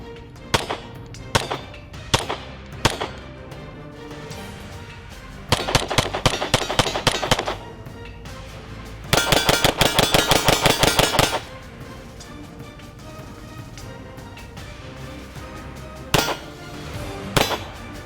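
Glock 19 Gen 4 pistol firing on a range: scattered single sharp reports, then two rapid strings of shots, then a few more isolated cracks, loud and close with no talk.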